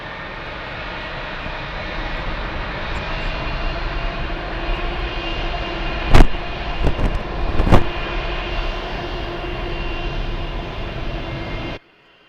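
Lufthansa airliner jet engines roaring at Frankfurt airport during the afternoon rush, a loud, steady broadband rumble that holds for about twelve seconds with a couple of brief clanking peaks midway before cutting off abruptly.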